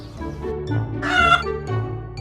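Chickens on a farm cluck in short, close bursts, one louder squawking call in the middle, over a low background hum, with no talking.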